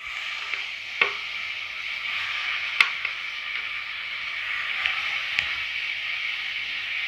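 Chopped tomatoes sautéing in a pan for a dry fish gravy: a steady, broad sizzle runs throughout, broken by a few sharp spatula knocks against the pan, with no talk.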